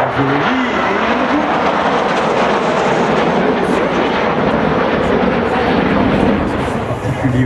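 A Rafale fighter jet roars loudly overhead at an airshow, a steady, dense engine rush that holds for several seconds before easing slightly at the end.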